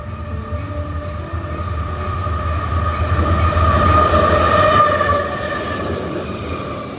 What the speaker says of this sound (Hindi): यहाँ से ट्रेन निकली एंड वो ट्रेन इतनी ज़्यादा लंबी थी